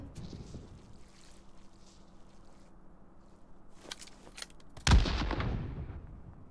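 Gunfire in the battle royale shooter Metro Royale, a sharp loud shot near the end cutting through soft wind-like ambience, with fainter distant pops before it.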